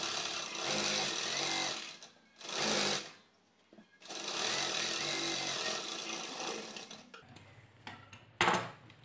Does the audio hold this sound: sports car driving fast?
no